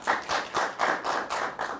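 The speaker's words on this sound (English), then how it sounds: "Clap if you agree." An audience in a room claps together in six or seven even, rhythmic bursts, moderately loud and close, with no talking.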